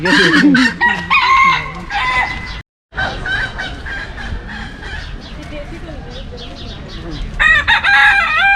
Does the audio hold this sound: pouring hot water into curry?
no